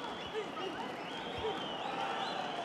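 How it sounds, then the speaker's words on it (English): Crowd at a men's light 60kg boxing semi-final, Kazakh fighter Abdrakhmanov against Estrada, roaring and applauding in a dense steady wash, with faint talk mixed in. "Crowd going wild here."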